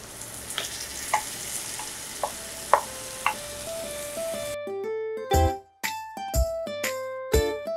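Pointed gourd goes into a hot pan and fries with a crackling sizzle, then sharp clattering hits and clanks of utensils ring out over the frying.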